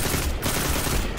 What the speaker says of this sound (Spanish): qué disparos más malos